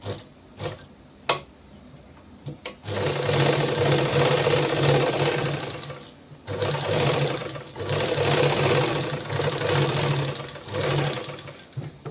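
A sewing machine stitches a drop neckline in steady runs, motor whirring loud and close with brief pauses between bursts.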